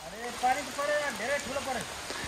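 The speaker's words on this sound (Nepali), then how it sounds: "यार धेरै ठुलो पानी पर्यो यार साथीहरु।" Heavy rain falls steadily in a forest, a broad continuous patter under people talking nearby.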